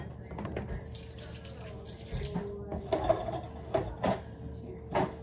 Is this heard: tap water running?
yes